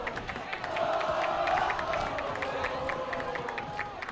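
Hastings fans at a college football game cheering loudly in a continuous roar, with scattered claps and shouts standing out from the broad crowd noise.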